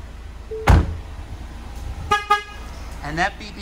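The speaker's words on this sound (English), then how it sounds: "that beeping sound is the car is running, but the key is in my pocket" A 2019 Ford Mustang EcoBoost Premium convertible gives two quick bursts of keyless-warning beeping, short and evenly spaced, after a sharp click, then a softer chirp, as it runs with the key away from the ignition; a faint voice sits in the background.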